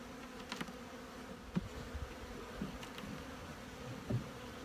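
Honeybees crawl and buzz in an open hive nest, a soft, continuous close-up drone with occasional brief louder buzzes of individual bees passing near.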